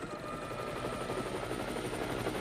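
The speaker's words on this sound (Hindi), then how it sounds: "ये आवाज तो हेलीकॉप्टर की है ना? हाँ, और वो कुछ ज्यादा ही पास उड़ रहा है।" A cartoon helicopter flying close overhead, its rotor blades beating in a rapid, steady thump under a loud, continuous engine whine, with no voices over it.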